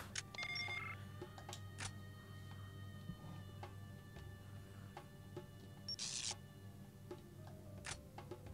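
Gadget sounds from the James Bond 007: The World Is Not Enough video game: quiet clicks and ticks, two short electronic chirping bursts, and a low steady hum underneath, with no voices.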